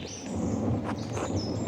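A thunderstorm rumbles in the video game Pentiment, a steady low roll of thunder with rain hiss and a few faint high chirps on top, heard without speech.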